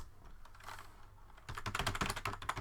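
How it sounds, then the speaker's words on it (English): Computer keyboard keys being typed at a workstation, a quiet stretch giving way to a rapid, steady burst of close, crisp clicks with no voices. "if you can log into MySQL and just type show"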